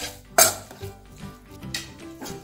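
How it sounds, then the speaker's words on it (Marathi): Potatoes mashed with a masher for mini samosa filling, a sharp clack against the pot followed by softer thuds and squishes, close and intermittent, with no talk. "आता हे मॅशरच्या साहाय्याने आपण मॅश करून घेऊया।"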